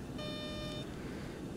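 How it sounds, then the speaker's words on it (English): A cockpit warning beep sounds in the X-Plane 11 flight simulator during a landing approach: a single faint electronic tone lasting well under a second over a low background hum. "I don't know why it's beeping at me."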